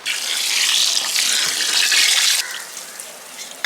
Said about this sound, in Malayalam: ഇതിനകത്തേക്ക് വെള്ളം ഒഴിച്ചു കൊടുക്കാം